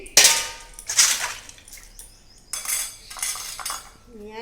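Bowl and utensils clinking and clattering in a kitchen while mangoes are washed, with two sharp clangs near the start and another burst of clattering midway, all without voices.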